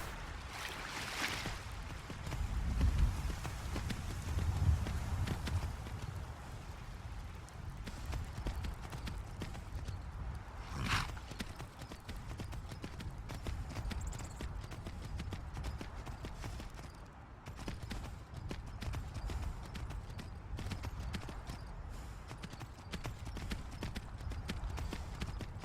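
Horse hooves clip-clop steadily in the video game Skyrim, a rhythmic trotting that carries on throughout over low ambient sound, with occasional louder thumps.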